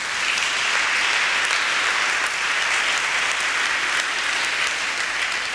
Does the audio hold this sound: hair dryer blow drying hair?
no